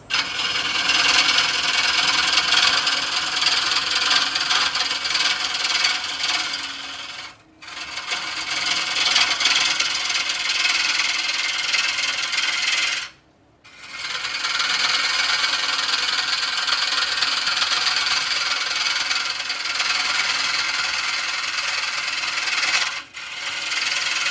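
An Ashley Harwood 40/40 bowl gouge cutting wood on a lathe, a loud, continuous rough shearing hiss that breaks off briefly three times as the tool lifts from the wood.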